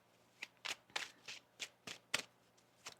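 A deck of tarot cards is shuffled by hand during a reading, giving a string of quick, crisp riffling bursts in an uneven rhythm, close and fairly quiet, with no voices.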